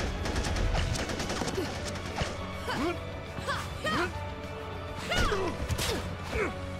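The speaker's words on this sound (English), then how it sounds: "Uh-oh, they're shooting the thing!" A quick volley of gunshots from a Death Battle animation pitting Lara Croft against Nathan Drake, rapid sharp cracks at first and then sporadic hits, with people talking over the action.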